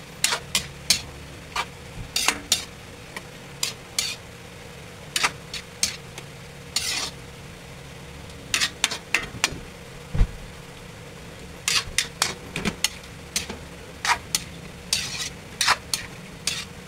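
Spoon stirring dinuguan, a Filipino pork blood stew, in a pot over a steady low sizzle, with repeated sharp scraping strokes in irregular bursts, close and alone.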